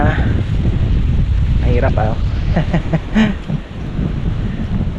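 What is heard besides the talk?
strong wind blowing outdoors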